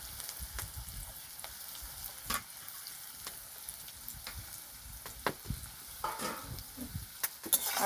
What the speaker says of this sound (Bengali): ভালো করে নাড়াচাড়া করে ভেজে নেবো পেঁয়াজটাকে দিয়ে দেবো কাঁচা লঙ্কা